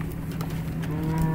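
A herd of about 200 cows being moved off corn stalks down a road, low steady lowing and bellowing from several animals mixed with outdoor rumble, moderately loud with no talk.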